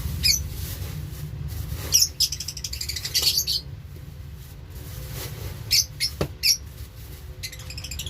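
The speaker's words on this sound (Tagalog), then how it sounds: "puro ibon yung nandun, sobrang dami." Many birds chirp in high, quick bursts that come and go in clusters over a low background hum.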